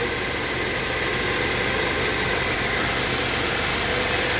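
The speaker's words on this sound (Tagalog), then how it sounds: "magana na ang compressor" A Toyota Altis engine runs steadily with its AC compressor engaged, a continuous close-up mechanical drone and whir with no breaks and no voices.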